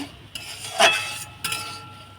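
Spices are stirred in a pan with a metal utensil, a few sharp clinks and scrapes against the pan over a quiet background, close and distinct.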